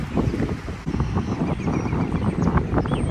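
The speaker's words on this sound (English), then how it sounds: "Too much wind. I can't record." Strong wind buffets the microphone outdoors in a Midwest garden, a loud, steady, rumbling roar throughout.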